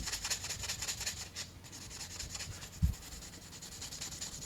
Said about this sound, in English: We start off with some very fine sanding sponges here.